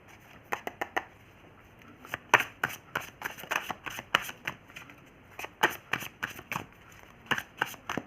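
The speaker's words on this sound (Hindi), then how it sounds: "एक सेकेंड थोड़ा सा और शफल कर लूँ" Tarot cards shuffled by hand, a quick irregular run of crisp riffling slaps and papery snaps, close and fairly quiet, with no talk over it.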